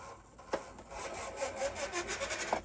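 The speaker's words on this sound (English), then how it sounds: "I'm getting some pretty rough running out of this Fury Tech system." Small SCX24 RC crawler with a Fury Tech starter brushless system running rough, a faint rasping, grinding whir that pulses unevenly with scratchy bursts, close by.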